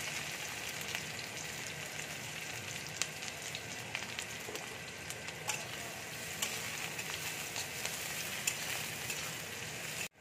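Chopped garlic and onion fry in oil as a tempering for green moong dal tadka, a quiet, dense, even crackle that runs unbroken throughout.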